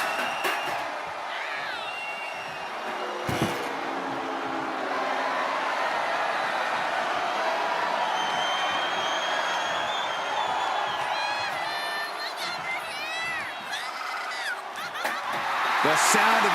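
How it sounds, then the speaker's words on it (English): A wrestling crowd roars in a sustained, dense wall of cheering that swells toward the end, with a commentator talking over it. "The sound of this crowd is deafening, and he's asking for more."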